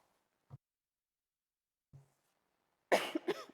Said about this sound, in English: I should have coughed and then turned my mic on.